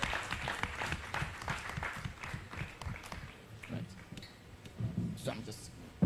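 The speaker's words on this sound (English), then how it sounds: "A big round of applause for him" Scattered audience applause at a stage event, moderately faint clapping under ongoing murmurs and voices, fading unevenly toward the end.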